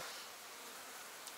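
Flies buzzing steadily around opened fermented herring (surströmming), a continuous close insect drone with faint rustling and no talk.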